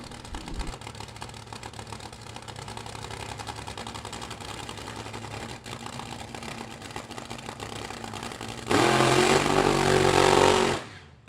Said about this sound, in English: They're going to put some fire in the pipes of Brian Inouye, the front engine dragster